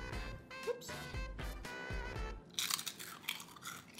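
Grilled chicken inasal crunched between the teeth: after a stretch of voices, a series of close, crisp crunching bites and chews comes in loudly on its own.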